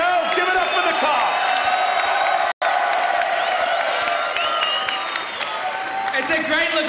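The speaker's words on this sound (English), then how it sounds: "People cheering it up." A crowd at Ellismania 11 cheers, whoops and claps loudly after a musical chair fight. The roar is dense and continuous, cutting out for a split second, and voices shout over it.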